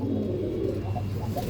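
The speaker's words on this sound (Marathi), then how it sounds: "सुपर क्वालिटीचं कबूतर आहे." Pigeons at a pigeon sale, cooing softly in low, rolling murmurs with a few brief rises, alone with steady background hum and no talk.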